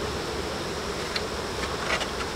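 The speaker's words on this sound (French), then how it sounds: "Il y a énormément d'abeilles à l'extérieur de la ruche." Dense, steady buzzing of many honeybees swarming outside a hive at a beekeeping yard on Quebec's South Shore, a continuous mid-level drone with a few brief louder passes.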